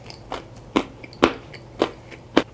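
Several sharp, crisp crunches, about five, spaced unevenly a half-second apart, close up: bites into crispy fried chicken.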